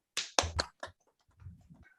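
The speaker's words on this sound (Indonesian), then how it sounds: "Tepuk tangan untuk Joshua." A short burst of applause in a classroom: four or five sharp, close hand claps in quick succession, then quiet shuffling.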